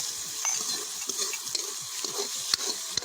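Red onion, ginger and garlic frying in oil: a soft, fairly quiet sizzle with repeated stirring scrapes and light taps of a utensil against the pan, and no talking.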